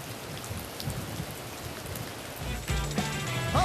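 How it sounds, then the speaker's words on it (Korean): Rain falls steadily on a windy day outdoors in Gwangju, a dense even hiss of drops that runs throughout, with a few louder spatters and a brief voice near the end. "빗소리는 참 좋다."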